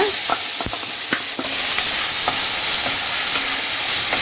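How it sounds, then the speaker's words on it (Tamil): Loud steady sizzling of onions frying in a hot pan, with occasional scraping and clinks of a stirring spoon. "நாம் எடுத்து வச்சுருந்த பொடியாக நறுக்கி வச்சுருந்த பெரிய வெங்காயத்தை ஆட் பண்ணிக்கலாங்க."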